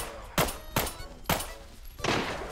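Four separate heavy shots ring out in the shooter game Arena Breakout, spaced irregularly over a couple of seconds, each a loud sharp crack with a short decay.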